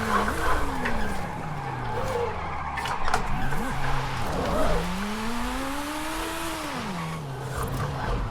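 A wheel-spin drift build car in Forza Horizon 5 slides with long, loud tire squeals that rise and fall over a steady turbocharged engine drone.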